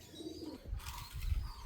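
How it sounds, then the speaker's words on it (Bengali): A female Malbai pigeon coos softly in short low murmurs, with faint chirps and a rustle near the end, moderately close and otherwise quiet. "বড় পায়রাদের মধ্যে এই একটা লাস্ট পায়রা, মালবাই পায়রা দেখাচ্ছি, মাদি পায়রা"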